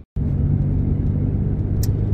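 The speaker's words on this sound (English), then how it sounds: "if you can hear me over my noisy truck, I've got an exhaust issue" A noisy truck with an exhaust problem drives along, its loud, steady low rumble and drone filling the cab continuously after a brief silent start.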